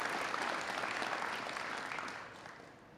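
Polite audience applause at a police academy graduation ceremony: dense, even clapping that slowly fades over a few seconds, with no cheering.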